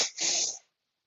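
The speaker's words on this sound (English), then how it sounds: "double sniff" A person does a double sniff and breathes out through the nose as part of an exercise for aging bones and fascia, a single short close breathy burst followed by silence.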